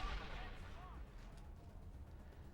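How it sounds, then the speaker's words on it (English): A grenade blast in the video game Mass Effect: a loud broadband boom at the start that settles into a long, low rumble, with speech over the top. "I'm going to use another grenade here"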